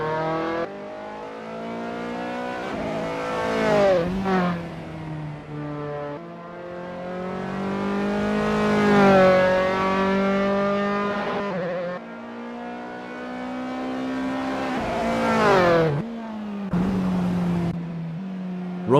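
A Dallara F312 open-wheel race car in Assetto Corsa at Blackwood screams through the gears, its engine pitch climbing sharply then dropping at each shift or braking point, repeated several times, loud and close with no voices.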